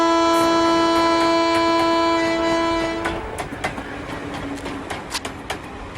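A passing train sounds a long, steady horn for about three seconds, then the rhythmic clatter of wheels on rails takes over, close and loud.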